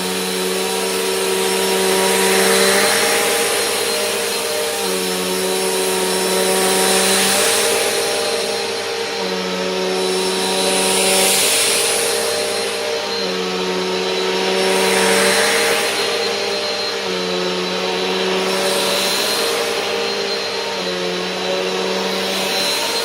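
Bissell Powerforce Compact vacuum cleaner running steadily on first use, a loud continuous motor whine with a tonal hum that rises and dips slightly in regular swells, no voices.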